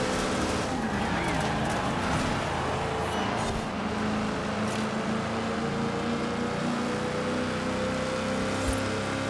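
Ram 2500 Power Wagon in Forza Horizon 4 with its engine droning steadily as it strains uphill in a low gear, a continuous mid-level hum with someone speaking over it.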